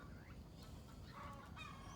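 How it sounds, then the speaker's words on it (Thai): A hen clucks in short, broken calls over a steady background hiss, faint and somewhat distant. "เสียงไก่มันขันกระตากกระตาก"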